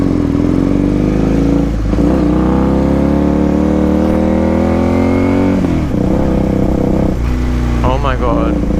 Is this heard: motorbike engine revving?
yes